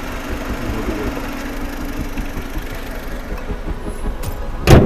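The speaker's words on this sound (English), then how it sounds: "The sound of the engine, it's so sweet" A 2015 Honda Civic sedan engine idles with a smooth, steady low hum close by, ending in a brief sharp noise.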